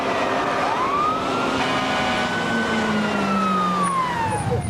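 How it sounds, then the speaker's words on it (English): Fire truck siren wailing as crews respond to an oil tank fire in Three Rivers, Texas; a steady, loud rising and falling wail holds throughout with engine rumble underneath. "when the alarm sounds for an oil tank fire"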